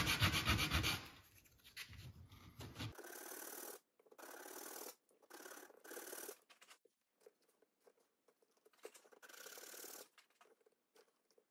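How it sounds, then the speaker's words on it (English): Light hand sanding of a wooden bow tie inlay, close and quiet, a series of short rasping strokes in bursts with pauses between them. "we're going to do just a little bit of light sanding to get that perfect fit"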